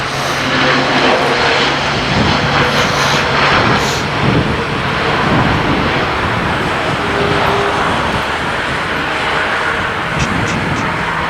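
A jet airliner roars loudly and steadily on its approach to land at Copenhagen Kastrup Airport at night in December, with a constant broadband engine rumble filling the whole stretch.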